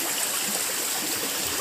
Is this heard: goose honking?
no